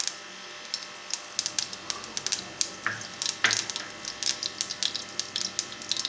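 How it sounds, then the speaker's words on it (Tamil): Mustard seeds and urad dal spluttering in hot oil, with close, irregular sharp pops and crackles that grow denser over a steady sizzle. "பொரியட்டும். கடுகு பொரியட்டும்."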